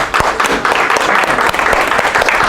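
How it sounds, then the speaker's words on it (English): Steady, dense applause from an audience at a religious holy day gathering, many hands clapping close together without pause for a couple of seconds. "Give our Moor a round of applause."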